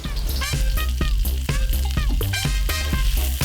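Onion, garlic and ginger stir-fried together in a pan for a Thai chicken and ginger stir fry, a steady loud sizzle with repeated scraping strokes of the utensil over a music bed.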